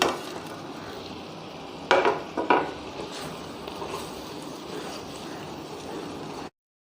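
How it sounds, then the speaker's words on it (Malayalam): Fried chicken pieces go into a thickening restaurant-style chilli chicken sauce and are stirred, giving a steady soft sizzle with a couple of sharper clanks of a utensil against the pan, no talking. "ഈ ടൈമിൽ നമുക്ക് നമ്മുടെ ഫ്രൈ ചെയ്ത് വെച്ചേക്കുന്ന ചിക്കൻ പീസ് ഇട്ട് കൊടുക്കാം"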